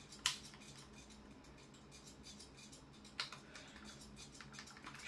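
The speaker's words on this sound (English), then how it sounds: "I'm a fast typer." Fast typing on a computer keyboard, a quick continuous patter of close key clicks with a couple of sharper louder taps standing out.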